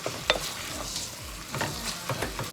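Ground meat seasoned with pepper is stirred, pressed down and broken up in a hot pan for baked macaroni with béchamel, giving a steady sizzle with scraping spatula strokes and a few sharp clicks.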